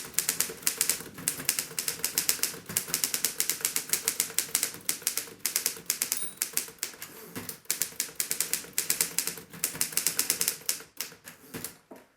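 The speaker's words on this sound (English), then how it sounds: "this typewriter also writes really nicely" A restored chrome-trimmed manual typewriter clatters out a long run of rapid keystrokes, dense crisp strikes with brief pauses and occasional carriage or bell sounds, close and loud with no talking.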